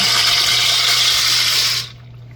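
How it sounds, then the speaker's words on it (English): Water pours steadily into a pot on the stove for hhomemade Hamburger Helper as noodles are tipped in, a loud continuous rushing splash close by that stops abruptly near the end, with a low steady hum beneath. "we're gonna pour them all into the boiling water to get them going"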